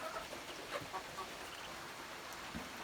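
Week-old Muscovy ducklings with full crops chatter quietly together after feeding, a low, soft, continuous murmur of small calls, fairly close and with no talk.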